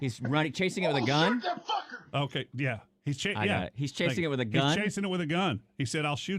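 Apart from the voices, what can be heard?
No everyday noise stands out behind the speech.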